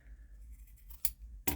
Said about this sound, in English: I'm just going to trim that off with my scissors as I go.